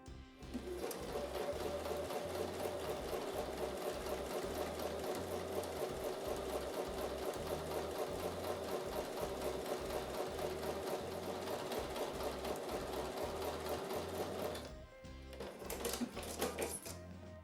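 A sewing machine stitches quilt block pieces with a quarter-inch seam, its fast steady needle clatter running loud and close for about fourteen seconds before stopping, with a few brief handling noises after.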